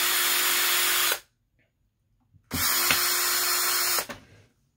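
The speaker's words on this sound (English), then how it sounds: "We got to go back and really drill that" A power drill drives a screw into a mini keg speaker in two loud bursts, with the motor whining steadily for about a second each time and a quiet gap between them.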